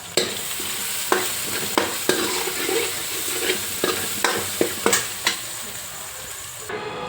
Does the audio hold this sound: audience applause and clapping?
no